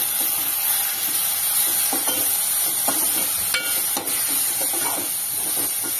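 Chili powder, coriander powder and garam masala stirred in a hot pan for ragda, with a steady sizzle and hiss and soft, irregular scraping strokes throughout, close and fairly loud.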